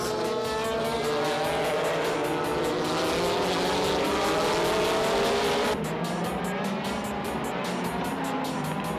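Super GT race cars, including Toyota, Nissan and Honda entries such as the ARTA NSX, roar continuously on a circuit, engines rising and shifting pitch with a sharp change as another car passes; loud and steady, no talk.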